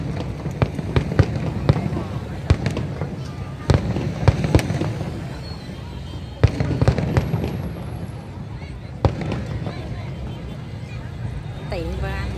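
Fireworks from the Finland team at a 2023 international fireworks competition, with repeated sharp bursts and crackling booms across the display and a steady crowd murmur and people talking throughout.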